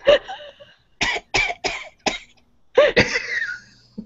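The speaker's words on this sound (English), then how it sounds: "Did it turn into a real cough?" A woman coughs in a series of sharp, separate bursts, a couple at first and then several quick ones, close and loud in a quiet room.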